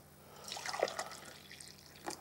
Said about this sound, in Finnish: Laitoin kahvia nimittäin tippumaan ja tosta noin.